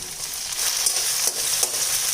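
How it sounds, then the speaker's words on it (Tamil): Onions and tomato sizzle and crackle in a hot pan, a continuous hiss with small pops and soft stirring scrapes, close by. "நம்ம சேர்த்த வெங்காயம் நல்லா ஓரளவுக்கு வதங்கிடுச்சு இப்போ இந்த ஸ்டேஜில் நறுக்கி வச்சுருக்க தக்காளி சேர்த்துடலாம்"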